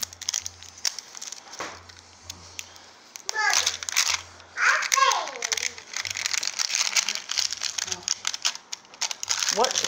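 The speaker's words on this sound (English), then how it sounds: "There's another tear strip." Cardboard tear strip ripped open on a ZooBaloo toy box, giving crinkly tearing and crumpling bursts, with a child and an adult talking over and around it.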